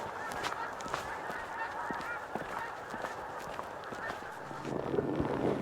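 Many geese in flight near Gleneagles, Scotland, honking in a busy overlapping chorus, fairly close, with some faint shuffling underneath.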